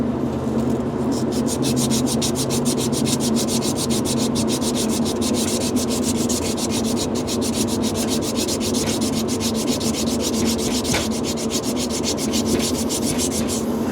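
Steady, continuous sanding on a car exhaust part during an early-morning exhaust upgrade, a loud abrasive rubbing that runs unbroken for the whole stretch with no talk over it.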